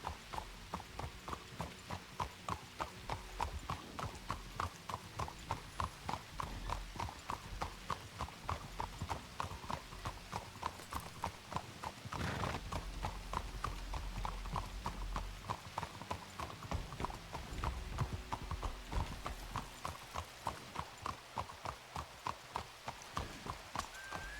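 Horse hooves clip-clop while riding in Red Dead Redemption 2, a steady, even trotting beat that runs close and continuous throughout, with a brief snort or whinny midway.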